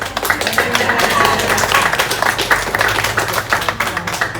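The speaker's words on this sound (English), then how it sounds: "Sometimes people clap." A crowd of spectators claps at a wildlife show at Everglades Holiday Park, dense, busy clapping that runs steadily for several seconds, fairly loud and close, with some voices underneath.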